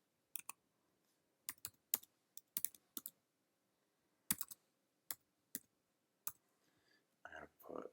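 Keys tapped on a computer keyboard, a dozen or so sharp isolated clicks in an uneven rhythm against quiet, close by, with a brief murmur of speech at the end.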